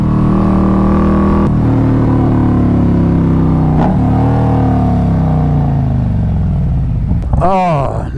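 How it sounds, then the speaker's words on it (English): Harley-Davidson motorcycle engine rumbling loud and close as the rider makes quick downshifts, the pitch dropping in steps, with a brief rev blip near the end. "Make some quick downshifts here,"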